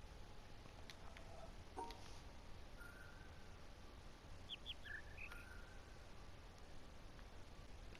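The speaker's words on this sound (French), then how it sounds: "Je viens de comprendre d'où le bruitage d'oiseaux vient en fait." Artificial birdsong from the ambient soundscape of the video game The Witness: a few faint, brief chirps in quick succession near the middle, over a steady low hiss.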